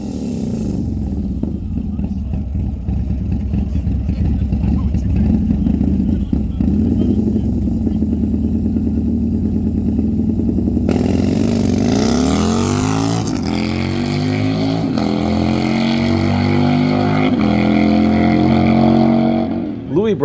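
Harley-Davidson grudge bike engine running, a loud, heavy, continuous rumble that climbs in pitch partway through as it revs, with people talking over it.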